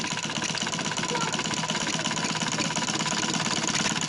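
Sewing machine stitching a double layer of fabric for a trouser, a steady rapid mechanical whirring and ticking that runs continuously and evenly at close range for the whole stretch, with no talk.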